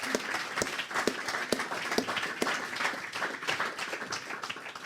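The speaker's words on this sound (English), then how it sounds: "Give him a round of applause." A studio audience claps steadily at moderate volume after an exercise demonstration, a dense patter of hands with no talking over it.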